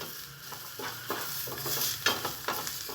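Onions and peppers sizzle steadily as they fry in a pan, with several soft scraping stir strokes across the pan surface.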